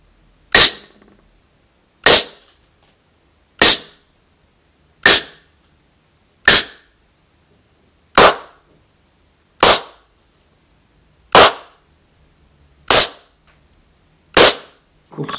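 A Gamo HPA Mi 4.5mm air rifle fires ten sharp, loud cracking shots into a piece of wood, evenly spaced about one and a half seconds apart, each quick snap decaying fast into near silence, with no talking.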